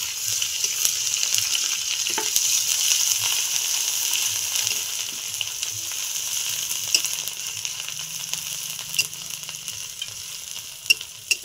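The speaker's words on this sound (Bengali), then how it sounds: "এবার আমি রসুনটা দিয়ে দেব।" Garlic frying in hot oil after onions, a continuous close bright sizzle with scattered crackles and occasional stirring clicks, no voices.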